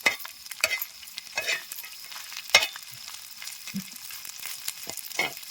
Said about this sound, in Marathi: बोंबीला असं मस्त तळलं ना तो वशाळा लागत नाही